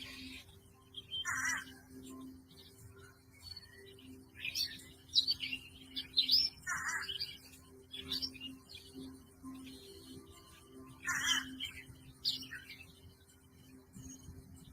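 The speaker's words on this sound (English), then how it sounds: "Listening to those bird chirping," Birds chirp in a backyard in short, scattered bursts of high tweeting, moderately distant, with a faint steady hum underneath and quiet pauses between calls.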